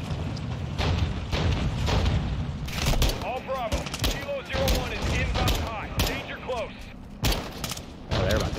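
Rapid automatic gunfire and explosions from the Modern Warfare 2 video game, with repeated bursts and heavy booms over a dense battle din, under occasional talk.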